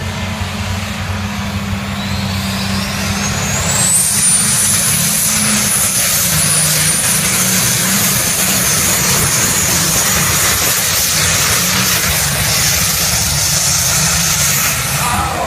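A pulling tractor's engine roars loud and continuous at a tractor pull competition, a heavy, unbroken drone with a rising whine near the start, close and dominant throughout.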